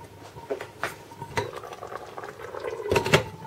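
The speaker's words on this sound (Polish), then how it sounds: "I teraz można brać się za smażenie już tych starkowanych, przygotowanych placków." Grated potato pancakes fry in a pan, with a soft bubbling sizzle beneath irregular clinks and scrapes of a utensil against the cookware, close and moderately quiet, with no talking.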